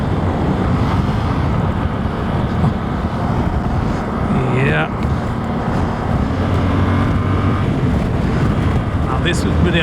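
Steady, loud wind buffeting while riding a motorcycle fills the whole stretch, a broad rushing roar with a low engine hum beneath and brief tonal whines near the middle.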